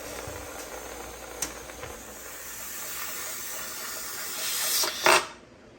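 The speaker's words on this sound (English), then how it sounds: "When the steam starts coming out of the vent in a steady stream, I'm going to let it go for 10 minutes." Steam hisses steadily from the vent of a pressure canner cooking leftover ham broth, a continuous broadband rush that swells louder toward the end before cutting off abruptly.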